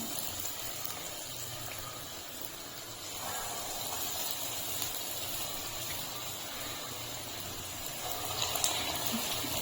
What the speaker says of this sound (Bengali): তেলটা আমার গরম হয়ে গেছে। আমি এখন একটা একটা করে ছেড়ে দিচ্ছি।